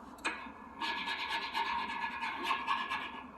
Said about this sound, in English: you get like different sort of rubbing effects on here